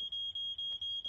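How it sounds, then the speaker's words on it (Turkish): A piercing high-pitched smoke alarm in an animated cartoon beeps in a fast, regular pulse, five or so chirps in quick succession, loud and close. "Bu ses yangın alarmına benziyor."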